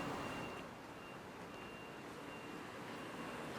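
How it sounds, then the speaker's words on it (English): On a busy city street, probably from a bus, a thin repeated electronic beep sounds over a constant wash of distant traffic noise, faint and steady throughout. "I don't know what that beeping was, probably a bus."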